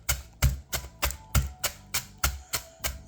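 A knife cuts through crispy fried Delta striped bass in a series of about ten sharp, crackling crunches at a steady rhythm, close and clear with no talking.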